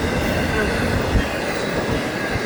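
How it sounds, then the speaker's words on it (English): A northbound train passes close by, giving a loud, continuous rumble of rolling railcars with steady wheel and rail noise throughout. "there comes the northbound train."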